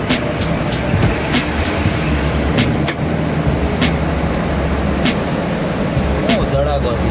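Steady traffic roar on the Rajkot–Ahmedabad highway at night, continuous vehicle rumble with repeated sharp clicks or passing bursts, loud and close, with someone talking over it.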